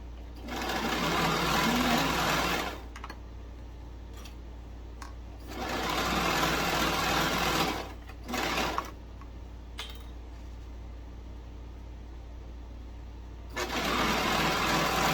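A sewing machine stitching a t-shirt seam, running in steady whirring bursts of a few seconds each with short pauses between, close and clear.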